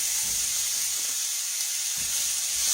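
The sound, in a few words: squash and red peppers stir frying in a skillet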